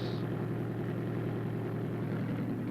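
Muffled outside noise heard inside a closed 1966 Chevrolet Caprice: a steady low engine hum with a faint broadband rumble, continuous and even throughout, no voices.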